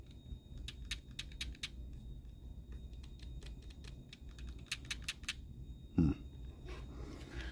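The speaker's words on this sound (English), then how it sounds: "But these have less of a clacking sound when you flick them." Analog sticks on an R36 handheld game console are flicked repeatedly, giving rapid, light, close clicks in quick bursts over a low steady hum, with one louder knock midway.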